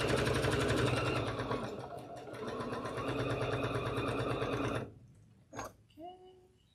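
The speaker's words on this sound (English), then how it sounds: "sew the other sides on these real quick, and we'll start piecing this inner block." A sewing machine runs steadily at close range, stitching quilt block pieces in a fast, even mechanical whir. It then stops abruptly, leaving a few brief clicks and small handling sounds.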